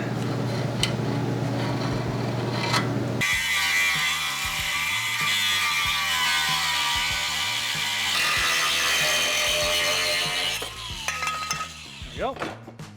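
A metal coolant can cut with a power tool in a workshop, a steady loud grinding whine running for several seconds, then stopping and giving way to a few light clinks and handling noises.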